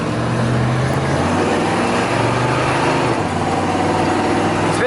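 A Chevrolet K10 4x4 Stepside pickup with a big block 396 V8 and TH400 transmission drives along, its engine a steady, loud low rumble heard from inside the cab throughout.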